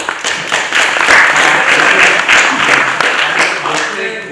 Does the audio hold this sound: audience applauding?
yes